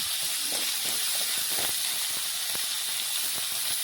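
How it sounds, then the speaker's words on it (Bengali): Cauliflower florets and potato pieces frying together in hot oil, a steady loud hiss and sizzle that runs unbroken throughout, with faint scattered pops and clicks under it. "একসাথে আমি ভেজে নিচ্ছি কারণ অনেকটা পরিমাণে কম ফুলকপি আর আলু"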